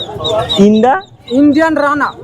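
Live ducks, including Indian Runners, and chickens at a village poultry market give two loud, close, squawking clucks in quick succession, each about half a second long, with a short gap between.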